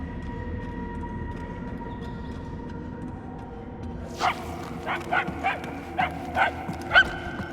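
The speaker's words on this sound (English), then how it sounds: "The barking is getting fainter." A dog in the video game Marvel's Guardians of the Galaxy barks in a quick run of short, distant, faint yips over a low ambient hum.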